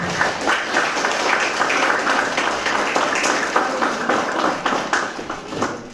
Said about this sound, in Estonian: Teeme Riinale ühe suure aplausi, et ta selle ellu kutsus.